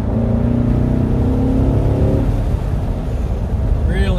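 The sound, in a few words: 2015 Corvette C7 Stingray engine revving in a roll-on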